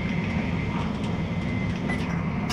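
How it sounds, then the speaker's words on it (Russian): Interior of a moving Shinkansen bullet train in Japan, a steady loud broadband rumble and rushing hiss with faint rail clatter, continuous and close. "вот на тот шинкансен, на который мы сели"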